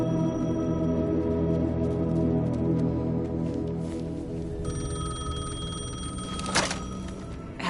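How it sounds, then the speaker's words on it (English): A payphone rings in the video game Alan Wake 2, a sustained metallic electric bell trilling over a low ambient drone, broken by a brief thunk near the end. "Payphone was ringing."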